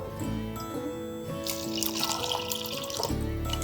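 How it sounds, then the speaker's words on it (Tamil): Water is poured into a Karkatshringi herbal mixture with curd before grinding, making a trickling, splashy pour over a steady tonal background that grows busier toward the end. "இதோட கொஞ்சம் நம்ம நீர் விட்டு அரைச்சிடலாம்"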